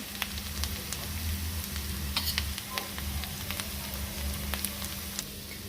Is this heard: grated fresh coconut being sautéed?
yes